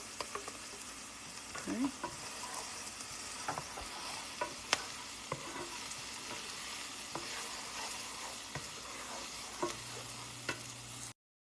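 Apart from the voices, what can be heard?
onions sizzling while frying in a pan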